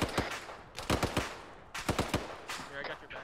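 Rapid bursts of gunfire in a squad-based shooter video game crack out in quick clusters, several volleys separated by brief pauses, loud and close with faint background noise between bursts.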